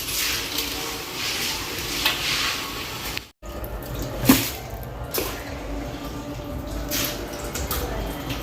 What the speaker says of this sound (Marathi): म्हणजे पाणी गव्हातलं याच्यात निथळून जाईल पूर्ण